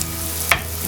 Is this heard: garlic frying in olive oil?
yes